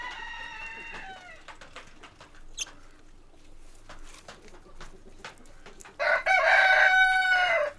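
On a farm during daily chores, a rooster crows twice, once at the start and again louder near the end, with scattered clucks and faint background noise between the calls.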